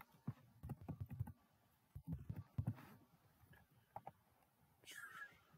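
A password being typed on a computer keyboard, with quick bursts of soft close key taps in uneven rhythm and a faint whispery sound near the end, quiet overall.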